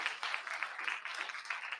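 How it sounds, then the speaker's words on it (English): Audience at a real estate investors' live workshop in Omaha applauds an event sponsor, a steady, fairly quiet wash of many hands clapping throughout. "You guys give Dave Welty a round of applause for a sponsor."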